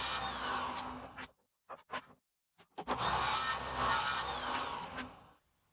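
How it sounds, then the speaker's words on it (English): Saw cutting a piece of wood to length in a workshop: two sustained, rasping cutting passes separated by a gap with a few brief knocks, fairly quiet and close. "So I'm cutting it to length first."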